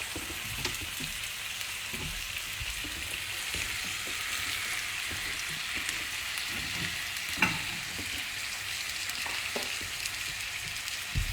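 Sausage frying in a pan in a home kitchen, a steady crackling sizzle with small pops and occasional stirring clatter, close and even throughout, no voices.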